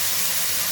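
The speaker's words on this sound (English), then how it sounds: "It's only going to be seared for about 60 seconds." Beef sears in a hot wok, giving a brief, steady and fairly loud sizzling hiss.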